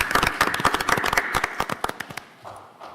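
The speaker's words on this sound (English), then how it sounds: "So let's give them, again, a round of applause." Brisk hand clapping at a board of education meeting, crisp and close at first, then thinning out and dying away after about two seconds, leaving a quiet room.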